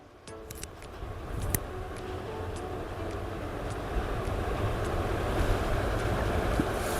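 Sea waves roll in front of a cottage on the Konkan coast, heard as a steady broad wash of surf under wind, with a few faint ticks and no talking.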